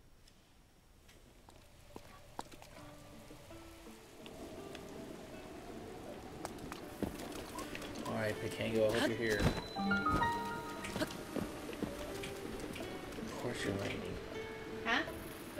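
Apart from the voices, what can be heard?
rain in Zelda video game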